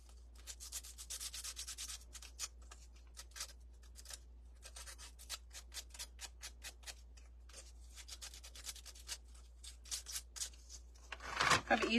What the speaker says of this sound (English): Let's just sand him just a little bit so he doesn't look so flat.